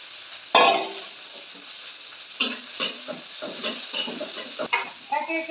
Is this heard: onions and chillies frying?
yes